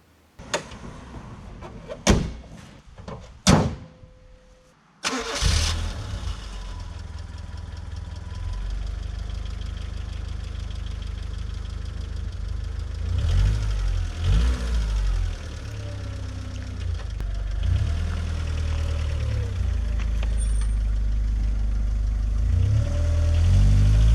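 A Honda Concerto's door opens and shuts with a few sharp knocks, then the engine starts and settles into a steady, fairly close running drone that builds slightly as the car drives off.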